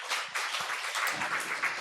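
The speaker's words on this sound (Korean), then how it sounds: "우리 하나님 박수 드려요" A church congregation at a Sunday worship service applauds together, a dense, fairly soft wash of clapping that carries on steadily, with no voices over it.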